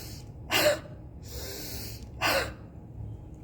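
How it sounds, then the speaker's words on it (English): Two deep, forceful inhalations during a lung-clearing breathing exercise, each a loud breathy rush separated by a quiet pause, heard close and alone. "deep inhalation"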